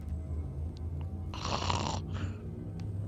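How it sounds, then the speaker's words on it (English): A woman sleeps through the evening, letting out one soft, breathy snore over a low background hum, with faint clicks from a game nearby. "a little snore."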